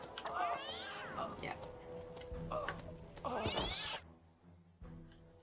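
A cat meowing in the video game Sphinx and the Cursed Mummy, several drawn-out meows close up with game sounds between them, while a player briefly speaks.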